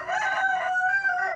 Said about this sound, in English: I'm here on a beautiful chicken farm, surrounded by chickens.